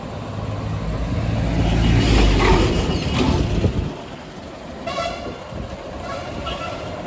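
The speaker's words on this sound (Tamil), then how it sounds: "ஸோ கொஞ்சம் டிராஃபிக்காக இருக்குது." Busy street traffic near a bus stand in Tirunelveli, Tamil Nadu: a loud, continuous rumble of engines passing nearby, with vehicle horns tooting briefly partway through.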